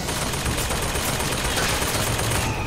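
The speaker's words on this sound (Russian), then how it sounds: "Похоже, это автомат работает." An automatic gun fires a dense, continuous volley in the video game Bioshock Infinite, loud and unbroken from start to finish with no voices over it.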